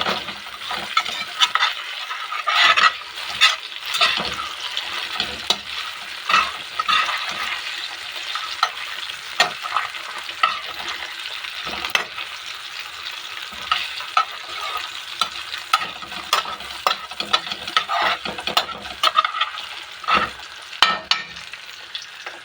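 Garlic and butter fry in a pan with a loud, dense, continuous sizzle, crackling and popping close by throughout with frequent small stirring scrapes and no talk.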